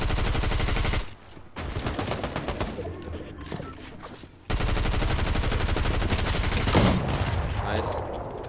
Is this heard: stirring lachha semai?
no